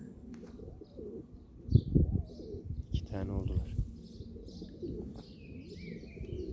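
Pigeons coo softly nearby, several rolling low calls standing out in the middle with faint chirps around them, while a person speaks briefly over the birds.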